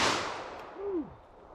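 A Federal HST .44 Magnum round fires with a loud, sharp report right at the start, then a fading echo over the next second and a half.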